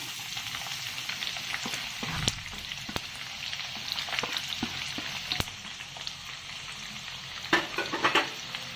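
Onions and sesame seeds frying in a pan for poha, a steady close sizzle with scattered crackles and pops and occasional stirring scrapes, no voices.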